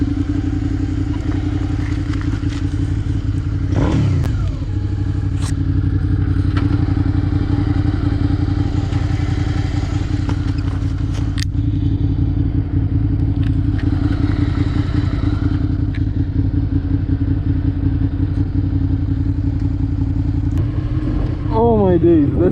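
A motorcycle is ridden on a road in Finland, its engine droning loud and steady with a low hum throughout, and a few thumps and rattles and a rising rev near the end, while a voice talks over it.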